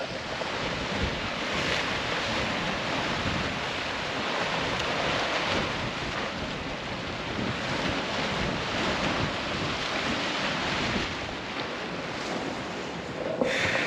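Waves wash continuously onto Voulisma Beach in Crete, a steady broadband rush of surf mixed with gusty wind buffeting the microphone, with no speech.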